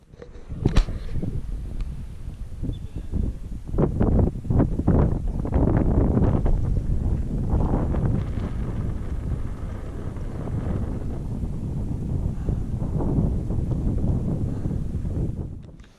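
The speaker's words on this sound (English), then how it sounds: "It was really windy up there" Strong wind on a high mountain pass in the Maroon Bells-Snowmass Wilderness roaring and buffeting the microphone continuously, with a few brief knocks early on; loud and close, no speech.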